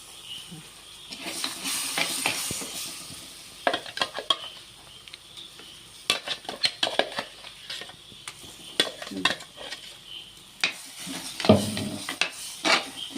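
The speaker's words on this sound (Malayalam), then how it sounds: "നന്നായിട്ട് ഇതൊന്ന് വഴട്ടിയെടുക്കണം കേട്ടോ തക്കാളി ഉള്ളി നമ്മൾ അരച്ച് വെച്ചത് പേസ്റ്റ് പോലെ അരച്ച് വെച്ചിട്ടുള്ളത്" Ground tomato-onion paste being sautéed in a pan for a fish curry: a soft sizzle runs beneath irregular scraping and stirring clatter of a spoon against the pan, close and moderately loud, with no one talking.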